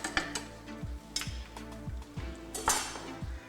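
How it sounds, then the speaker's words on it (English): A wooden spoon mashes and stirs Cincinnati-style chili in a pot, making a run of soft, regular knocks and scrapes against the pot with light clinks and a faint simmer underneath. "with my little wooden spoon, I'd mash it, just to make sure there's no big lumps"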